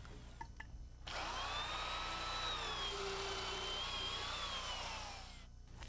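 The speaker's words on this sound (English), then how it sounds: "We use a heavy-duty drill motor and a good sharp auger bit to drill our holes." A heavy-duty drill motor spins a sharp auger bit through wood framing, a loud steady whine that swells after a brief start and holds for several seconds before easing off, with no voices.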